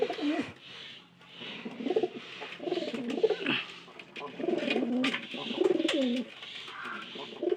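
Pigeons coo repeatedly at close range in a steady series of soft, throaty calls, with a few faint chirps and rustles between them and no talking.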